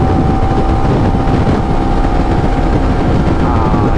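Honda CBR250RR motorcycle accelerating hard through fifth and sixth gear with a quick shifter, a loud, steady engine roar with a rising whine, heavily buffeted by wind noise throughout.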